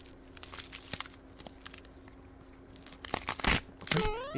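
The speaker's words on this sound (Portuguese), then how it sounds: "Alguém tá mastigando Doritos" Crunchy chewing of Doritos chips inside the Mario horror fan game Ruins.END: irregular crisp crackling bites over a steady low hum, building to louder, denser crunches near the end, where a short rising tone also cuts in.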